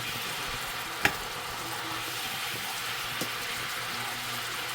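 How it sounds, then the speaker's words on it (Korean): A Korean side dish with Cheongyang chili peppers stir-fries in a pan, making a steady, even sizzle throughout, with two faint utensil clicks. "국물이 조금 달궈질 때까지 이렇게 볶아주세요"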